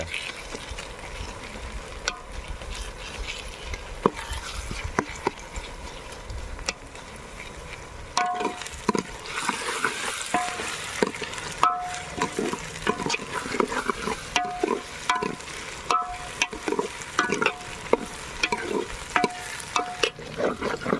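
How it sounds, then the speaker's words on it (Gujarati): Onion and masala mixed with green garlic, green chilli and coriander fry in a pan for brinjal olo, a continuous sizzle broken by frequent scraping stirs close by. "આપણે ડુંગળી કપલેટ બરાબર ચડી ગઈ છે અને આપણે આ મસાલો નાખી દેવી"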